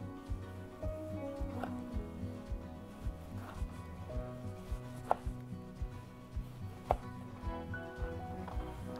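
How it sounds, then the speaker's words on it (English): A knife slicing down through tomatoes on a cutting board for pico de gallo, a regular series of close, crisp chops at a steady rhythm with no talk. "And then we're going to slice down."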